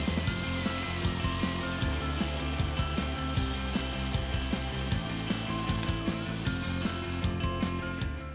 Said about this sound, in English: mark your spots out, and drill it in